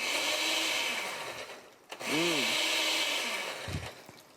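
A kitchen blender whirs loudly, its motor note shifting as the load changes, with a brief dip partway through before it picks up again; a voice briefly joins near the middle.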